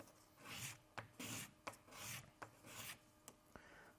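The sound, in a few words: sanding a centering ring for a model rocket build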